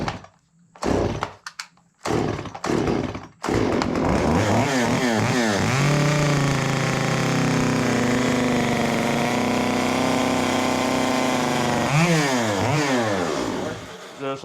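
A chainsaw carves the first line into a pumpkin: a few short revs and knocks at the start, then a loud, close, sustained cutting roar with shifting pitch before it winds down.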